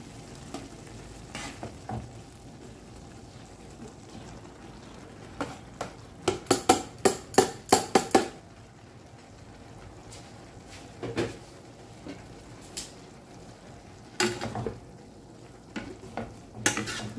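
Bacon frying in a pan for pancit guisado, a low sizzle under bursts of sharp metal utensil clatter and stirring scrapes against the pan, close and intermittent with no talking.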